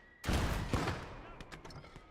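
A cannon fires in a video game, a single heavy booming blast with a long, rolling decay, followed by smaller clattering impacts as it fades.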